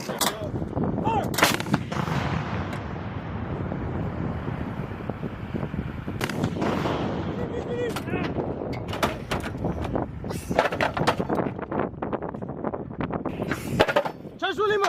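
Marine howitzers boom repeatedly during an artillery live-fire exercise, loud sharp blasts at irregular intervals over wind noise, with shouted commands between shots.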